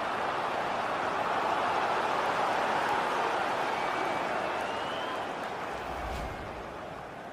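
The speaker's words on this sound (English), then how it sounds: "the crowd are willing them to score here" A stadium crowd in the video game FIFA 22 keeps up a steady wash of cheering and noise through the whole stretch. It eases off slightly near the end, and a faint voice sits under it.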